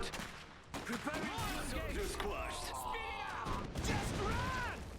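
Gunners firing in Iron Harvest, a real-time strategy battle, with overlapping distant shots and crashes under bursts of in-game unit voices.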